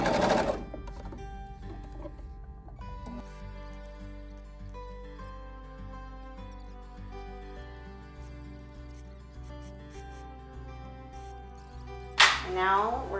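A sewing machine stitches a hoodie peplum, running in a steady mechanical whir with a regular needle rhythm that shifts pace partway through. There is a sharper rattle near the end, and the machine runs close and alone.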